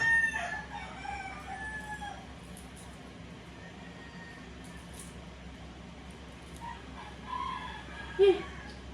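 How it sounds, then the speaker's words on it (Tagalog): Roosters crow faintly in the distance over a steady background hum, their calls rising now and then, with murmured voices far off. "ingay ng manok kasi sila pa'y ingay. Ayan, madaming manok"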